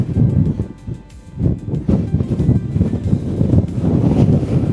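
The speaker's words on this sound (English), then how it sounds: "I've stopped at this viewpoint and it's definitely windy." Strong gusts of wind buffet the microphone at a coastal viewpoint in Corsica, France, with irregular low rumbling surges and brief lulls, loud and close.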